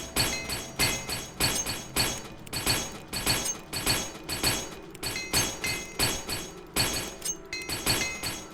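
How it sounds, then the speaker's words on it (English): Rapid repeated metallic clanks from a hammer striking gear during repairs in the video game Morrowind, a steady rhythmic series of bright hits, about two per second, loud and continuous with no talk. "I'm going to hammer stuff so that I'm ready to either sell it or use it."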